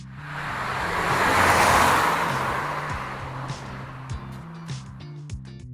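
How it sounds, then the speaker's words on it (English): A car sweeps past in a long whooshing swell that peaks early and fades, with a steady low hum and a few short clicks and blips near the end. "find a sound effect, so maybe a car driving by"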